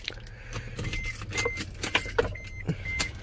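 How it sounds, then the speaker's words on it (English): A Toyota Tundra pickup truck's engine turns over close by, a low rumble under jangling keys and sharp clicks and knocks from inside the cab, with no one speaking. "Oh, started the truck."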